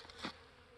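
A single Saskatraz honeybee buzzes past a hive on a mild winter day in Kentucky, a brief faint hum swelling and fading within a second.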